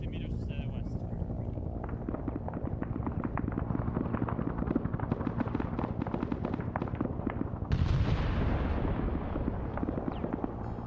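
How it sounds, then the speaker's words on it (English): Artillery fire in the Vietnam War video game SOG Prairie Fire thunders as a dense barrage of booms and crackling impacts, with a sharp heavy blast near the end and a voice speaking over the din. "Artillery."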